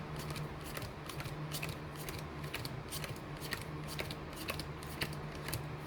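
Cards are shuffled and riffled in quick, soft flurries of papery clicks, continuous and close at low volume.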